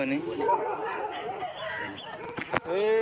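A dog on a village farm gives short yips and whimpering barks, mixed in with nearby voices talking over it.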